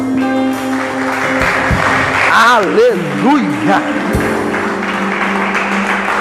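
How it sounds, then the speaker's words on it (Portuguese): A church congregation applauds during an online worship service, a dense wash of clapping with a sung or shouted voice and sustained music tones running over it. "Você pode dar uma salva de palmas ao Senhor?"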